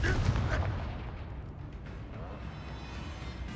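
A Confringo spell blast in the Hogwarts Legacy video game, a loud booming explosion right at the start that fades into a rumbling tail.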